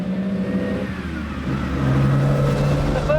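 A Ferrari GTO with a dry-sumped V12 drones loudly from inside the cabin, its engine note holding steady and then climbing as it accelerates. Harmonic tones rise through the revs.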